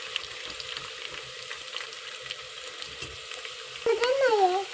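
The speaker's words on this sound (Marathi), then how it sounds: "आता टाकू शेंगदाणे. शेंगदाणे पण आपण थोडीशी परतून घेऊ." Peanuts sizzle in hot oil with curry leaves in a pan for Maharashtrian masale bhat, a steady low crackle that swells louder near the end as stirring begins.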